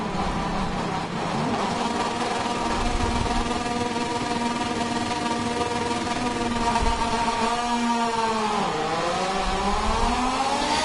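Moto2 racing motorcycles scream away from the start of a wet Catalunya Grand Prix, several engines revving hard together with rising, overlapping whines that sweep up and dip as the pack accelerates.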